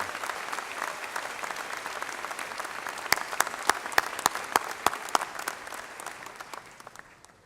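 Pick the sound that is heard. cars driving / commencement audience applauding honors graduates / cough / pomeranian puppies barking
commencement audience applauding honors graduates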